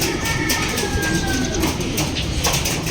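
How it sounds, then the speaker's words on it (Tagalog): Racing pigeons coo in a loft, soft repeated throaty coos over a constant noisy background, close by and with no talking. "Ayan mga kalapatids."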